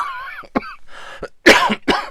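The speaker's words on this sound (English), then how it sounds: "I was hoping to get to the end of the video before I coughed" A person coughs indoors, several sharp harsh bursts spread across about two seconds, close and fairly loud, with a throat-clearing quality and no other talk.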